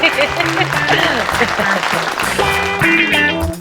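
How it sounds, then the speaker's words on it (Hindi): A neighbourhood crowd claps together in a dense, lively burst, with voices and music mixed in over the clapping. "ताली बजाओ भाई।"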